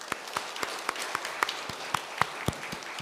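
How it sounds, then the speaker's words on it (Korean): A church congregation applauds the choir after a Sunday hymn, with scattered, uneven claps repeating steadily over a soft room background, moderately loud and without speech. "우리 격려하며 감사로 우리 귀한 박수 해주시기 바랍니다."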